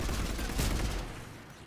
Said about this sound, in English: Who's shooting near me?